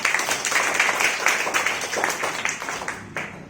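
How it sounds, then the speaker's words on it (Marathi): A group of children claps together during a classroom English lesson, a quick run of close, fairly loud hand claps that thins out and stops just before the end. "व्हेरी गुड टाळ्या वाजवा"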